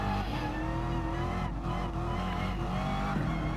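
A Chevrolet race car at Brands Hatch in Gran Turismo Sport during a manufacturers' race drones loudly at a sustained engine pitch with slight rises and dips as it corners, with no gaps.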